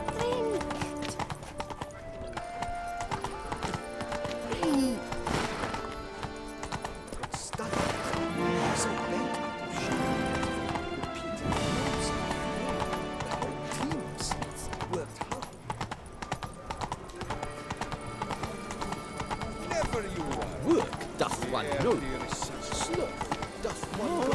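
Horse galloping with rapid clip-clop hooves and occasional neighs in the video game The Witcher 3: The Wild Hunt, continuous over game music, with a voice calling out to the horse.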